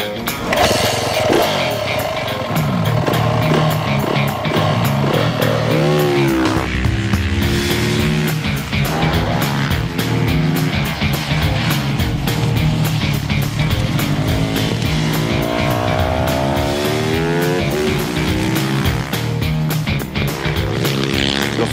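Motorcycle engine run hard on a dynamometer bench in a workshop, loud and close, with repeated rising revs and gear-like climbs in pitch, brief dips between pulls, and no speech.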